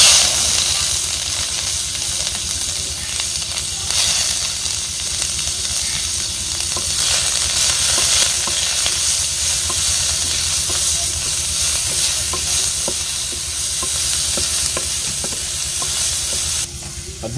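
Onion frying in a pot with cloves, black pepper and green cardamom, a loud continuous sizzle and hiss with intermittent scraping as it is stirred, in a village outdoor kitchen.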